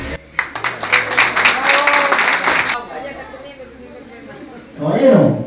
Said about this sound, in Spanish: Y un aplauso para los.